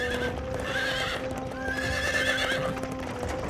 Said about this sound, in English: I hope he's not going to scare the horse.